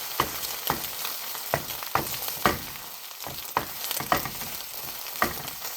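Garlic fries in a pan with a continuous close sizzle, broken by a steady run of sharp clicks and scrapes as it is stirred.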